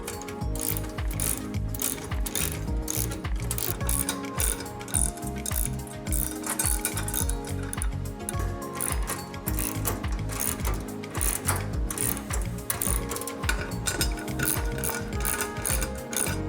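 Hand tools tighten screws on a trunk assembly for a Jeep JKU, producing a rapid, close ratcheting clatter in repeated bursts with no talk.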